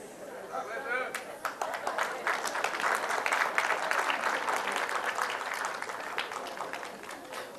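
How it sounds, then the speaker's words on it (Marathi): A workshop audience breaks into applause, a few scattered claps swelling into dense, sustained clapping with voices murmuring and talking underneath. "टाळ्या वाजलेल्या आहेत,"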